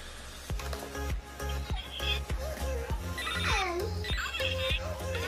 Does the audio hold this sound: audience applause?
no